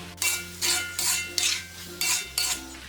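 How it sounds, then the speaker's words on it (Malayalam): Beef roasting with curry leaves in a pan, stirred with a metal spoon in about six evenly spaced scraping strokes over a steady low sizzle, close and alone. "നമ്മളിത് ഇളക്കി തന്നെ വരട്ടിയെടുക്കണം,"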